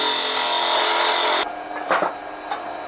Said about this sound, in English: I'm using a 3/8 inch spindle gouge for this